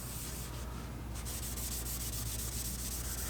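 Steady, close-up scrubbing of a Silverado truck's metal frame with alcohol to strip off grease, a continuous dense rubbing hiss with no pauses and no voices.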